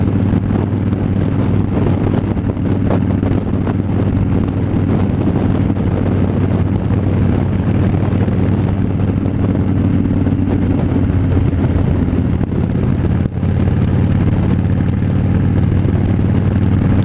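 A Harley-Davidson motorcycle drones steadily on a ride in mild weather, its low engine hum blending with loud, continuous wind rush across the microphone.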